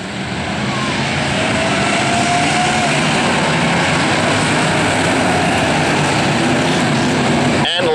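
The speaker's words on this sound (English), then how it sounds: "we're 8-cylinder enduro racing." Pack of 8-cylinder enduro race cars roaring at Riverhead Raceway, a dense continuous engine drone that stays loud and steady throughout, with a faint whining pass and a brief sharp noise at the very end.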